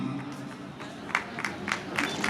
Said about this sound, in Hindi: हर बार तालियां होनी चाहिए, हर बार तालियां होनी चाहिए, बहुत जोर लगता है।